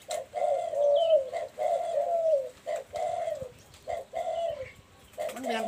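Pigeon or dove with a big, deep voice cooing close by in a steady series of long, rolling phrases broken by short pauses.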